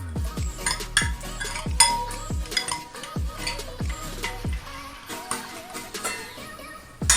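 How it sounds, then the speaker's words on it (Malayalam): A whisk or ladle clinking against a bowl while curd is broken up for mango pulissery, a steady series of quick metallic taps and scraping strokes, close and moderately loud. "ഒരു ബൗളിലേക്ക് 1 കപ്പ് തൈരെടുത്ത് അതിൻ്റെ കട്ടയൊക്കെ ഒന്ന് ഉടച്ചു കൊടുക്കുക"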